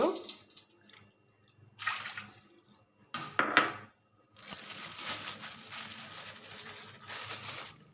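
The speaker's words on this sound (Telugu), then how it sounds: "ఇంకోటి ఒక కప్పు నీళ్ళు పోసుకుందాం." A cup of water is poured into a hot pan of ghee-fried cashews, giving bursts of splashing and hissing that settle into a sustained close sizzle and bubbling.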